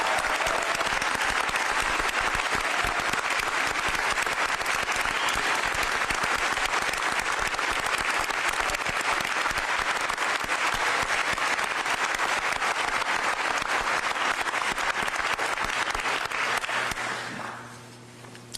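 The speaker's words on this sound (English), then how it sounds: "let's give them all a big round of applause for keeping our community safe" A large audience at the Texas State of the State address applauds in a dense, sustained roar of clapping that holds steady for many seconds before tapering off abruptly.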